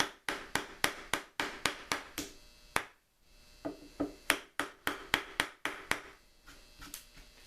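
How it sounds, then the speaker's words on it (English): Chisel strikes bite into knot-free pallet wood, a rapid series of sharp, close knocks in steady rhythm with a brief pause midway before the blows resume. "I chose a section of wood here that didn't have any knots or cross grain or anything strange, so this would be particularly easy to chisel out."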